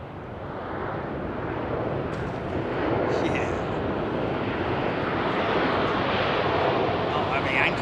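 A British Airways Boeing 787-10 airliner goes around in fog at Heathrow, a broad, steady jet roar that swells gradually and stays loud throughout.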